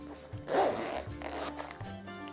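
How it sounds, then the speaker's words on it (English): Double zipper being pulled open on a pencil case, a close, crisp ratcheting rasp in a couple of short drawn strokes, clear and alone. "So I'm going to use my zippers and let's open it."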